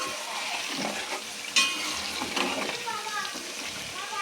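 Chicken pieces frying in a pan for a chicken pickle, with a continuous oily sizzle and stirring scrapes, a sharp clack partway through, and a voice talking over the cooking.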